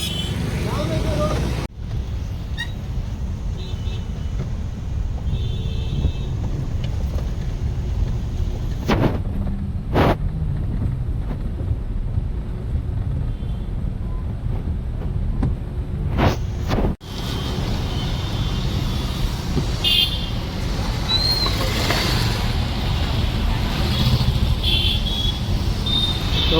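Heavy road traffic on a busy route to see Ganpati idols during the festival, with a steady low rumble of passing vehicles, occasional louder swells and loud thumps, and voices talking throughout.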